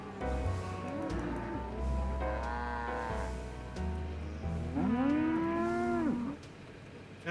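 A cow in a Nancy Drew video game moos several times in long, drawn-out calls with rising and falling pitch, loud and close over a low background hum.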